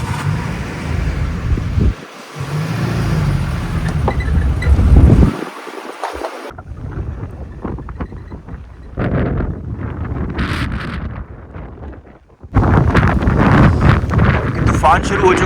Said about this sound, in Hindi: आप देख सकते हैं कि कितनी तेज हवा चल रही है और बारिश भी शुरू हो गई है